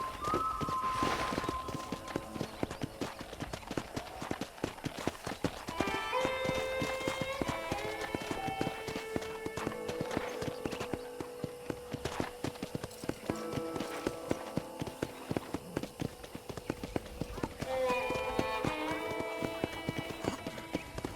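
Horse hooves clip-clop in a steady, continuous rhythm in Red Dead Redemption gameplay, with occasional musical tones over the top.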